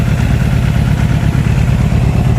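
Suzuki Impulse 400cc motorcycle idling up close, a loud, even low-pitched chugging with a slight mechanical clatter, steady throughout with no voices.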